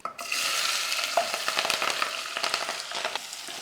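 Onions, green chilli, garlic and curry leaves frying in hot oil, a steady close sizzle with irregular crackles and stirring scrapes.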